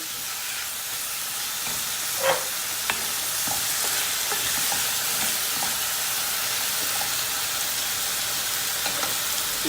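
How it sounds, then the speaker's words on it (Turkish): Tomatoes and peppers sizzle and fry steadily in a hot pan for chicken sauté, with a few sharp clicks of stirring and scraping near the start, and no voices. "Domatesle biberle beraber bir kavurmaya devam edeceğiz."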